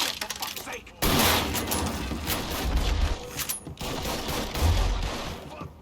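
Gunfire in the game Mafia III: loud, rapid bursts of automatic shots that break out suddenly and run on with short pauses, heavy low booms mixed in, under shouting voices.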